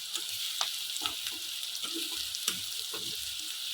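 Finely chopped tomatoes frying in a pan for a flat bean (goru chikudukaya) dish, a steady close sizzle with soft stirring clicks and scrapes throughout, no talking.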